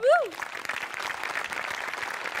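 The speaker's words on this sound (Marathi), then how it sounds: "त्यांच्या स्पिरिटसाठी टाळ्या वाजवूया. स्वातीसाठी जोरदार टाळ्या." Audience applause rolls steadily through a comedy stage show after a sketch, a brief rising-and-falling electronic whoop at the start, with a busy crowd clapping throughout.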